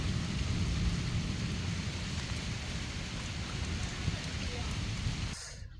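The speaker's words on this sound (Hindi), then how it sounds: "बारिश बहुत ज़्यादा होती है" Heavy rain lashes down during a lightning storm on a family wedding day, a thick, constant roar of downpour with deep low rumbling underneath that suddenly drops away near the end.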